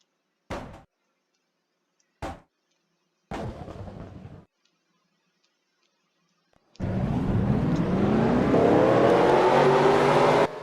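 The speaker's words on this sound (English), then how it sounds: "Drivers, start your engines." Race car engines in a cockpit at North Wilkesboro fire up: several sharp starter bursts and short catches, then an engine roars to life and revs loudly and steadily, very close.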